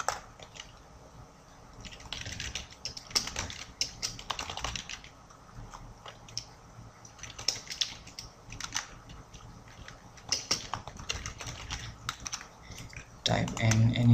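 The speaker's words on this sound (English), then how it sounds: "I'm going to just type in my website here" Fingers tap a computer keyboard up close, quick irregular clusters of soft key clicks with short pauses, fairly faint and with no talking.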